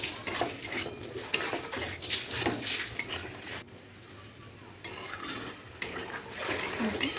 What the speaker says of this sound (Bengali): আবারও তাকে কষাতে থাকবো।